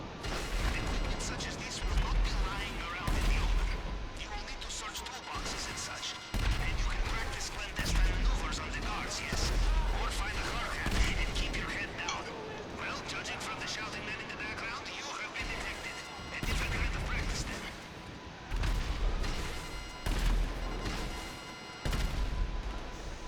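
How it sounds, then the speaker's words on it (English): Gunfire during the Cayo Perico heist in the video game GTA 5, with repeated sharp bursts of shots and mechanical clatter scattered through the stretch while someone talks over much of the action. "Whatever, I'm just gonna start firing."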